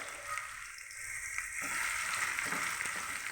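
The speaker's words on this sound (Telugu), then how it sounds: "ఈ ఉల్లిపాయ, పచ్చిమిరకాయ కూడా ఇలా రెడ్డ వచ్చినాక వేగాలి." Onions and green chillies sizzle in hot oil in a pan for bitter gourd curry, a steady broad hiss that swells slightly partway through, close and without talk.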